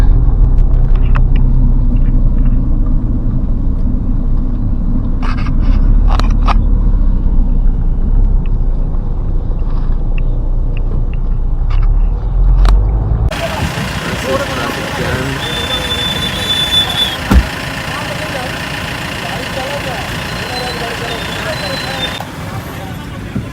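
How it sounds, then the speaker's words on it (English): Road traffic jammed near Dalkola, vehicles idling with no movement, a heavy low engine rumble throughout, with a shift to a noisier, wind-buffeted roar partway, and faint horn-like tones. "Terrific traffic jam near Dalkola."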